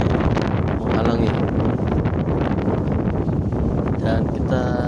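Strong wind roars at the mouth of Merapi's lava dome crater, a loud continuous gusting rush battering the microphone throughout.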